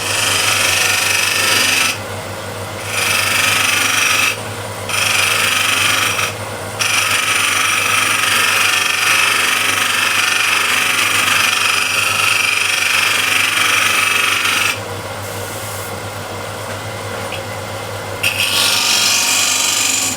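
Bowl gouge shear scraping a spinning wooden bowl on a lathe, a loud rough rasping over the steady motor hum, broken by several short pauses where the tool lifts off.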